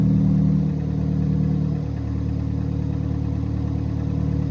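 A big-turbo Ford Fiesta ST runs on its first start, settling into a steady, droning idle after a slight dip in level near the start.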